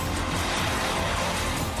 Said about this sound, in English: the petrol car has roared off to an early lead